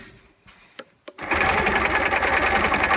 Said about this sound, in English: I'm going to stitch that crease in.